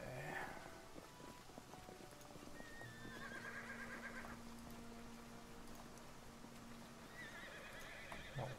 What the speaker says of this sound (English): horses in the stables here